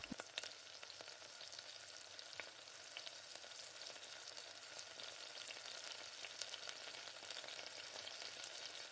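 Tomatoes sautéing in a pan for murungakkai sambar, a steady dense sizzle with soft scraping from stirring, continuous and even throughout.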